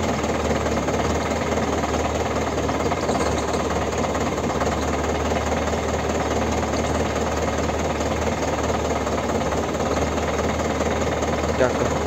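A tractor with a seed drill sowing maize in a field, its engine running at a steady, loud, unbroken rumble with rhythmic mechanical knocking throughout.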